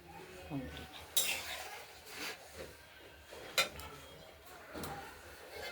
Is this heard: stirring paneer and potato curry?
yes